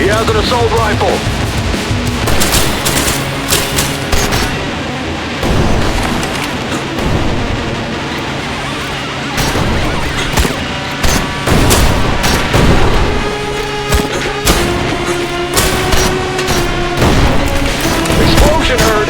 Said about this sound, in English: Explosion heard.